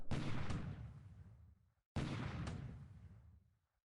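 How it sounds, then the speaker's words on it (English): Two heavy booming salvos from a light cruiser's bombardment in a naval combat video game, each a sharp blast that rolls off into a long decaying rumble, with a brief pause between them and no voices. "So secondary bombardment with the other light cruiser in that."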